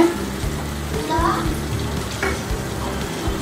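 Spice paste for egg korma frying in oil, a steady sizzle broken by repeated scraping stirs of a spatula against the pan, with a voice talking faintly in the background.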